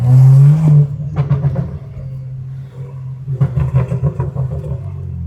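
BMW N55 engine with a catless downpipe, no muffler and only a resonator, giving a loud low droning rev that rises and falls, with growly bursts later and no talk over it.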